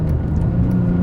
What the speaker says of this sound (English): look at these downshifts